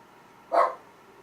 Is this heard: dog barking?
yes